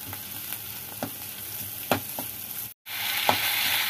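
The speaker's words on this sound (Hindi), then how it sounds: "जैसे हमारे प्याज ब्राउन होने लग जाए तो हम अदरक लहसुन का पेस्ट डाल देंगे और उसको फिर भूनेंगे" Browned onions fry with ginger-garlic paste in a pan, giving a steady close sizzle with periodic spoon scrapes and taps while being stirred, with one brief gap.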